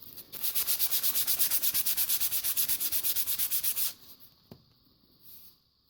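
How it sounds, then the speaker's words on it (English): Rapid, rhythmic back-and-forth rasping of 100 grit sandpaper on a tanto blade, about thirty even strokes close up, then a few quiet scrapes and a single knock. "Okay, so that is with 100 grit sandpaper."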